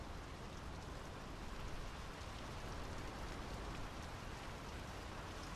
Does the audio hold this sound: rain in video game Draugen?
yes